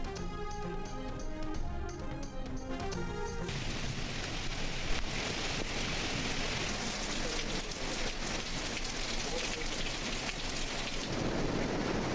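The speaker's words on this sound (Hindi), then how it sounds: "लाहौर और गिरदोनवा में मूसलाधार बारिश।" Heavy torrential rain in Lahore, a loud dense continuous roar of rainfall that starts after a short musical opening, with possible thunder mixed in; no talking.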